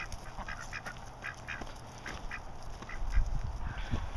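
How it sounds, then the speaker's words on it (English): Ducks quack in a winter garden, a series of short, moderately loud calls repeating in loose bursts, with a low rumble and some handling noise toward the end. "Watch out, ducks."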